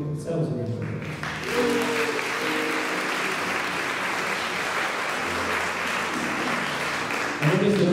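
At a choir concert in a church, the audience breaks into sustained applause lasting about six seconds, framed by a speaker talking just before and after.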